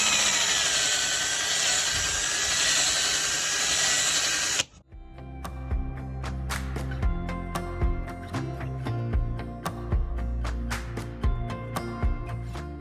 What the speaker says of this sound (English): now it's time to buff. And I'm going to use my buffing attachment for my drill.